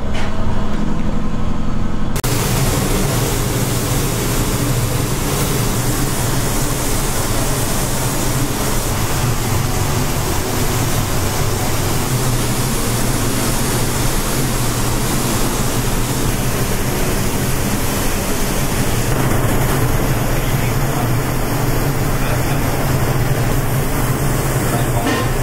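A spray gun applies a clear varnish coat to a prepared car wheel, for a Nissan 370Z, inside a paint studio, giving a steady, loud hiss that runs almost unbroken with no talking.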